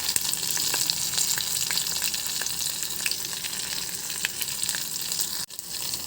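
Cumin seeds and split dal frying in hot oil as a tempering for ridge gourd chutney: a steady, close, dense crackling sizzle with small stirring sounds and no voices.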